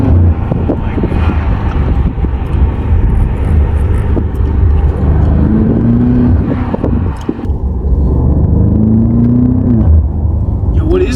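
A BMW M5 Competition accelerating hard from inside the cabin, a loud continuous engine roar with rising pitch sweeps broken by brief gear shifts, under heavy wind rumble and people talking excitedly.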